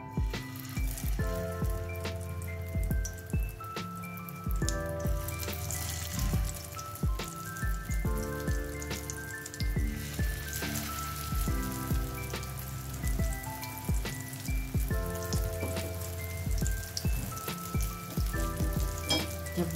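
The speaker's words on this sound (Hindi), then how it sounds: "मीडियम फ्लेम पर हम अपने कबाबों को फ्राई करेंगे" Shami kebabs fry in hot oil over a medium flame, a soft steady sizzle running under louder background music.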